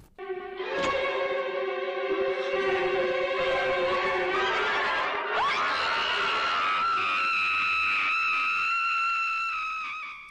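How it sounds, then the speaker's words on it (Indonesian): A woman's high, sustained hysterical scream with strong tonal wails that rise and break, loud and continuous for about ten seconds with no talking. "Dia langsung teriak dan histeris."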